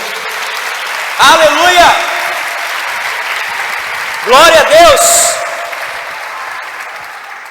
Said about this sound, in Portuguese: Então você pode dar um aplauso a Jesus por isso nessa noite?